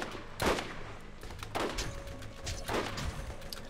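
Sniper rifle fire in the video game Borderlands: three loud, spaced shots, each a sharp crack with a trailing echo, over a steady game background hum.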